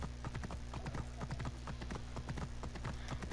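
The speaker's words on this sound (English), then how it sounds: "That's my horse. I've got a new horse" Horse hooves clip-clop steadily in Assassin's Creed Origins, a rapid even gallop rhythm of sharp hoofbeats that stays close and loud over a constant low game hum.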